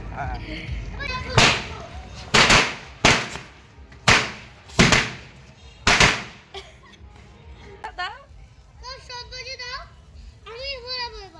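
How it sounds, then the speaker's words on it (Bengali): Six sharp chatpati firecracker bangs go off close by at roughly one-second intervals during a Bhai Phonta celebration. Children's excited voices and chatter follow afterward. "আরেকটা ফাটাও চটপটি"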